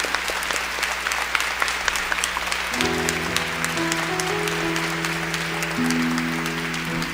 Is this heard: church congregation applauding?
yes